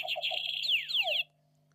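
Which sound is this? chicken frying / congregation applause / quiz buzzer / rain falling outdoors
quiz buzzer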